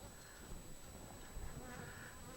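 Honey bees buzz steadily across a hive frame holding capped brood, nectar and pollen, a dense continuous hum close by with a slightly agitated, cranky edge and no voices.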